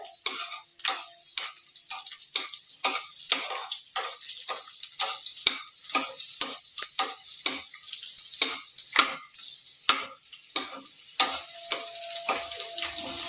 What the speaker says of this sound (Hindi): 2 से 3 सेकेंड भूज लेबै।